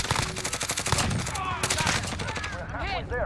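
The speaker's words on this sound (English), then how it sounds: "why are you shooting after me?" Rapid bursts of automatic gunfire in Call of Duty: Modern Warfare crackle loudly and almost continuously, with a voice talking over the shooting.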